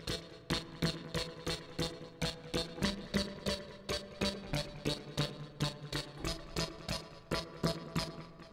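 Hard synth patch layered from a Juno synthesizer and a vocal sample, pulsing in a steady rhythmic pattern of bright, punchy stabs, loud and alone.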